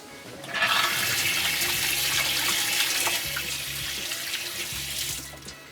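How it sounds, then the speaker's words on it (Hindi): Tap water runs steadily in a home kitchen as hands are washed mid-cooking, a close, even rushing splash lasting about five seconds before it is shut off. "हाथ धो लेता हूँ अपने।"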